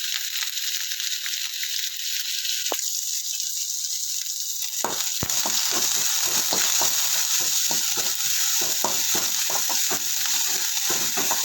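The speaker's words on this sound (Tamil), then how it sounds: "சின்ன வெங்காயத்தை போட்டுட்டு அதை நல்லா வதக்கிக்கணும்." Small onions and urad dal fry in a pan for a greens stir-fry, giving a loud, continuous close sizzle with a dense run of spatula scrapes and taps against the pan.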